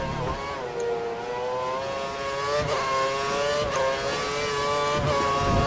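An F1 race car engine in the F1 2013 game at the Hungarian Grand Prix, a high sustained whine with rising harmonic pitch and brief gear-shift breaks, loud and continuous.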